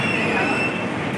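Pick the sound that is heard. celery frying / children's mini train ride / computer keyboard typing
children's mini train ride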